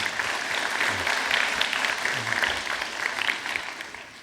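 An audience claps steadily for about four seconds, a dense and even burst of applause heard from within the room that fades slightly toward the end.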